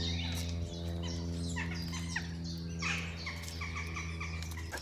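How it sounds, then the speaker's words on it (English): Crows call repeatedly around their nesting place, with a scatter of short chirping cries over a steady low mechanical hum. "Crows are loving it there, aren't they? It's their nesting place."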